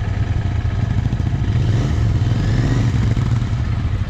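A Kawasaki Ninja 1000 superbike engine runs steadily close by on a mountain road in Sikkim, a loud, even, throbbing rumble that holds without a break.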